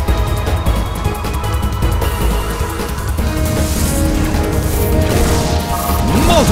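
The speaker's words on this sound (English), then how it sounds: "Multiple hits! It keeps dealing damage!" A rapid series of battle hit impacts in Pokémon Colosseum, repeated smashing thwacks layered over game music, loud and continuous with a rising swoosh at the end and no speech.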